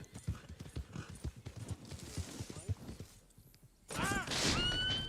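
Horse hooves clip-clopping in a free-roam video game with an Iron Grey Ardennes horse, a steady rhythmic series of close thuds, followed by a loud burst of game sound near the end.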